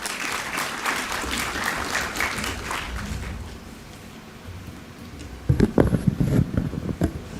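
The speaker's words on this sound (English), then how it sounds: "Please join me in extending a warm round of applause." Warm round of audience applause at an actuarial summit, steady dense clapping that softens midway, then a few louder, closer claps and knocks near the end.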